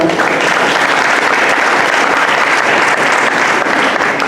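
Church congregation bursting into loud, sustained applause and clapping filling the space, steady and dense throughout with a few voices mixed in.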